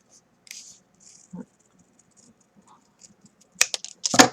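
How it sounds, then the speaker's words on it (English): Scissors cut a fun foam circle for a pin cushion: a few crisp, close snips come in a quick cluster near the end, after quiet handling and faint rustles. "let me take my circle here. And I'll cut about this much."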